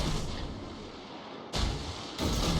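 The destroyer Shinonome's guns fire in World of Warships, two heavy booming salvos at about 1.5 and 2.2 seconds cutting through a low rumbling background, with no talking.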